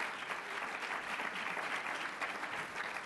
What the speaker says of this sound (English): why don't we give our panel a big, big round of applause